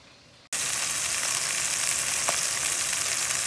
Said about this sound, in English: So now you can see I've browned my veal on all sides